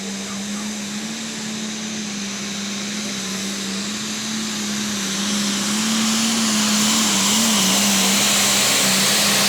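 A Case International pulling tractor named Precision Pro roars at a county tractor pull, a loud sustained engine drone that climbs steadily in intensity as the run goes on, with no talk over it.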